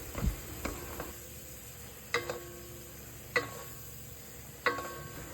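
Corned beef frying in a nonstick wok, a steady sizzle with periodic scraping stir strokes from a spatula at a close, even volume.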